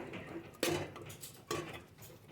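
Mutton in a pot with salt and a tempering being stirred, a couple of sharp metallic spoon clinks against the pot amid light scraping, close and fairly quiet with no voices.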